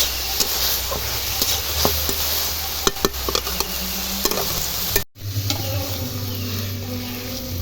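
Chicken keema for momo filling is stir-fried with spices in a pan, giving a loud continuous sizzle with frequent spatula scrapes and knocks, then a brief drop before the frying resumes.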